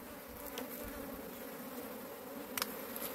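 Honey bees buzzing around open hive frames while a beekeeper inspects them; a steady, close swarm hum continues throughout with no voices.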